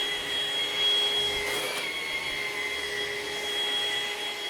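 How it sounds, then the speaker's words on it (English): A cordless vacuum cleaner with its dust bin full to the brim keeps running, a steady close-up motor whine with a high tonal hum throughout and a brief surge in the middle. "It's full, everybody, to the brim. It's still vacuuming."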